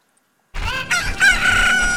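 A rooster crows loudly and close in Legend of Zelda Ocarina of Time, with hens clucking around it. It starts suddenly out of silence and carries on to the end.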